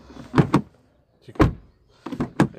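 Maruti Suzuki Ciaz car door mechanism sounds: a few sharp clunks and latch clicks in pairs, separated by short silences, close and moderately loud.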